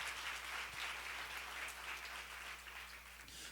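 Scattered applause from a church seminar congregation, steady broadband clapping at moderate-to-faint level throughout, with no voices over it.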